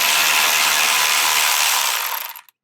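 A ratchet turns loose one of three 10 mm bolts holding an evap component on the driver's side of a 2003-2011 Honda Element, giving a steady close-up whirring click that runs for over two seconds and then stops abruptly.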